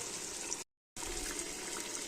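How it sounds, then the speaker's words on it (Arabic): Hot water poured in a small splash over couscous ingredients frying together, a steady close gushing pour broken by a short silent gap. "كيما تشوفوا توا نصب شويه ماء سخون"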